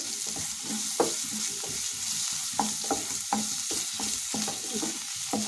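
Chili powder mix with jaggery frying in a pan, sizzling steadily while a spoon stirs and scrapes in periodic clicks, close up with no talking.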